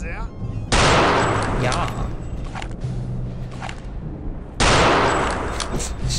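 Loud gunshots from Return to Castle Wolfenstein crack out in two heavy blasts a few seconds apart, each followed by a noisy tail, with a brief spoken word in between.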